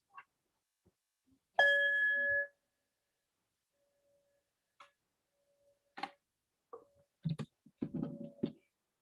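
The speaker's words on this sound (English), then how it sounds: "The sound of the bell now calls us to a spirit of reverence." A single bell struck once at the start of a Unitarian Universalist Sunday service rings out clear and sustained for under a second in a quiet room, followed by scattered faint knocks and rustles.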